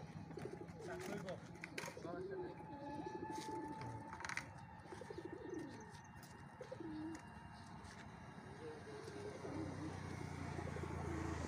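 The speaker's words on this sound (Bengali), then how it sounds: "কবুতর আমরা সবগুলো কবুতর ছাড়তেছি" Pigeons coo softly and intermittently as a flock is released at a club pigeon racing competition, with steady outdoor ambience and voices talking in the background.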